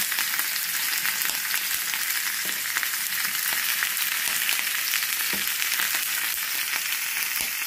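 Onion and garlic frying in a pan for an eggplant and tomato mash, a steady crackling sizzle with faint stirring scrapes, close and continuous.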